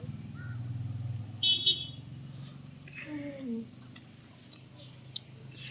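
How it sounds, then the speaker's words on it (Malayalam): Road traffic rumbles past at a steady, moderate level, with a couple of brief horn toots near the start and a faint engine whine passing midway. "വണ്ടികളൊക്കെ പോകുന്നുണ്ട് കേട്ടോ"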